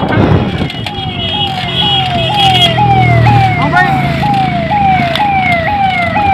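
A fire brigade siren near a warehouse blast in Khordha wails continuously in a regular rising-and-falling sawtooth cycle, loud and close, over traffic rumble, with people talking in the background.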